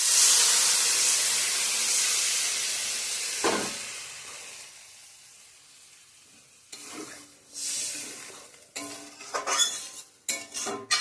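Water poured into a hot pan of spiced curry hisses in a loud, bright burst of sizzle and steam that gradually dies away, then a few close clinks and scrapes of stirring follow; no one talks.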